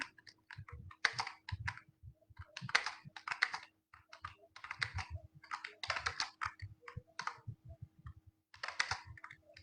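Rapid typing of a paragraph on a computer keyboard: close, crisp keystroke clatter in uneven bursts separated by brief pauses, with no voices.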